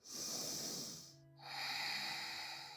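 A long, deep breath during a yoga session: an audible airy inhale that fades briefly, then a steady breathy exhale, close and alone.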